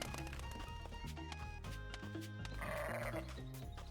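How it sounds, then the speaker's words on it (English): Sheep in the video game Sea of Stars bleat repeatedly in short bursts over busy background music and sound effects. "Not another sheep."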